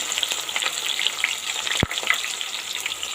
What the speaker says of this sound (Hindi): अब इसमें डाल देंगे प्याज, उसके कर लेंगे अच्छे से फ्राई